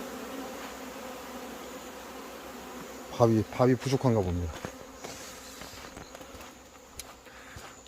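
Black hornets buzz steadily around honey near the mic, faint and close, while someone speaks briefly over the droning in the middle.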